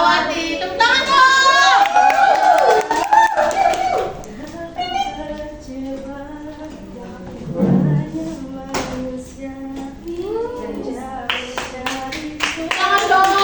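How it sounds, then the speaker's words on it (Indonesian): Audience applause at an Indonesian talk show, bursts of clapping from a small crowd mixed with a host's voice and children's chatter, fading and returning. "Wah, tepuk tangan dong."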